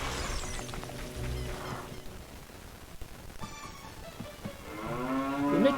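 A cow moos inside a house in Kokiri Village in the video game Zelda: Ocarina of Time, a long, loud low bellow over a steady game background, with a rising moo swelling near the end.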